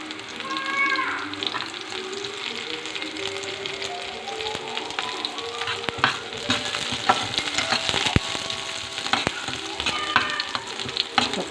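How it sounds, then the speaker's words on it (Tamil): Garlic frying in oil in a pan for a home lunch, a steady loud sizzle with clinks of a utensil stirring through it, with no talking. "பூண்டு எண்ணெயிலேயே அப்படியே ஃப்ரை பண்ணிக்கலாம்."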